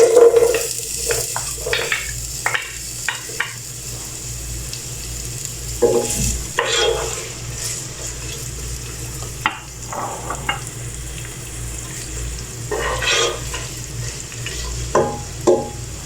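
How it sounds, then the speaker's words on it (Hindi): Onions fry in hot oil for a chicken and chickpea curry, a steady close sizzle with intermittent stirring scrapes and pan clinks. "ऑयल गर्म हो चुका, अब हम इसमें प्याज डाल देंगे।"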